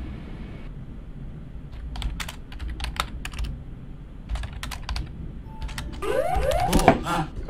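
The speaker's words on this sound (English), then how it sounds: "Too busy typing." Rapid bursts of keystrokes on a computer keyboard during a flight simulator session, close and fairly crisp, arriving in uneven clusters with pauses over a low steady background, joined near the end by an electronic tone sweep.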